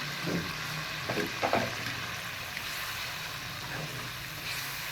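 Tomato and green chilli puree sizzles and fries in a pot of aloo gosht, a steady soft crackle at moderate distance with a few brief stirring clatters and no voices.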